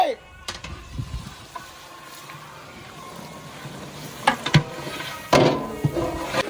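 Vegetables sizzle in a pan, with intermittent scraping and clattering bursts as they are stirred.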